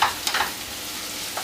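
Peppers sizzle and fry in a pan over a medium flame while being stirred, with a soft, steady crackle and a few brief scraping clinks.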